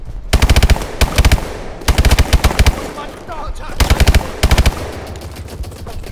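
Call of Duty: Advanced Warfare automatic weapon fire in a North Korea attack mission: five or so loud, close machine-gun bursts separated by short pauses, over a low background rumble.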